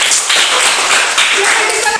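A classroom of children claps their hands together in a dense, steady burst of rapid claps lasting about two seconds, close and loud, with voices mixed in.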